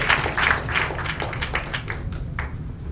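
Applause from a conference audience after a speech, with distinct individual claps standing out at first, then thinning and fading toward the end.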